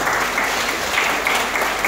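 An audience bursts into loud, dense applause, a continuous roar of clapping hands filling the room without a break.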